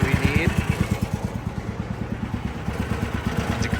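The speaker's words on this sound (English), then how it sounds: "now we have the buggy started" Small single-cylinder engine of a Baja buggy running steadily at about 1,000 RPM, a close, pulsing idle-like putter with an even rapid rhythm throughout, with a faint voice briefly at the start.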